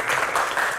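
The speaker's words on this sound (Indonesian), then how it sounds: "Kita tepuk tangan bersama dong untuk dua rekan kita." An audience at a Q&A session for Indonesian national film claps in a brief, dense burst of applause, loud and continuous through the moment, with no talking.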